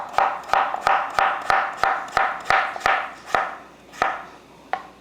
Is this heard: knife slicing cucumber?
yes